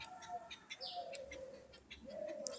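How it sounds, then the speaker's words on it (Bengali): Jungle babblers call faintly nearby in a few brief chirps and short whistled notes over quiet background noise. "এগুলো হচ্ছে ছাতারে পাখি।"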